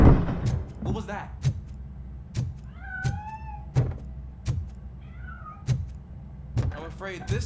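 A cat meows in the RoboCop: Rogue City video game, with a few short mewing calls amid sharp repeated thuds and clanks, over a steady low game hum with a voice present.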